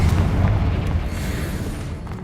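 A Confringo spell explodes in Hogwarts Legacy as a deep, heavy boom that rumbles on steadily and slowly fades, with no talk over it.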